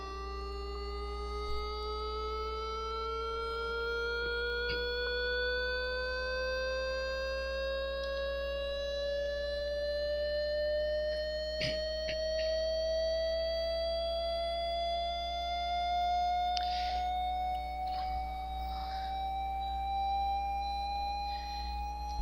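An Arduino-generated electronic tone glides steadily upward in pitch for over twenty seconds, a continuous clear whine with faint harmonics above a constant low hum, with a few brief clicks scattered through it.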